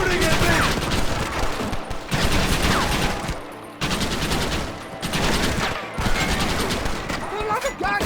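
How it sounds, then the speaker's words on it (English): Loud, dense gunfire from the assault on Fort Mercer in Red Dead Redemption: overlapping volleys of shots roll on with brief gaps, close and heavy throughout. "Stop shooting at me!"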